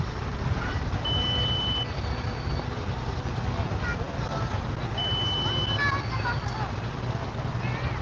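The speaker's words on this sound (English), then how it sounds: "I hear a lot of beeps." Several short electronic beeps sound at intervals over a constant low engine rumble and background noise.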